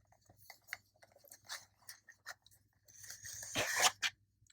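A knife digs into and slices a small sticker sealing a smartphone case box, a run of close, crisp crunching and scraping bursts that builds into a louder tearing cut at the end.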